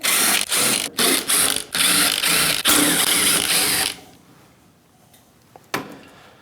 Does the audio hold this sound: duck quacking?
no